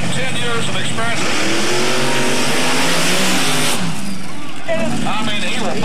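Mud drag racing vehicle at the starting line of a drag race in Glenwood, Iowa, its engine roaring and revving loudly and steadily, with a crowd and an announcer's voice talking over it.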